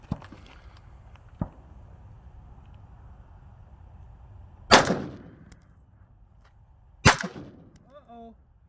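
Rifle shots strike a mannequin packed with explosive target outdoors, two sharp loud cracks with ringing metallic tails spaced a couple of seconds apart, preceded by fainter small pops.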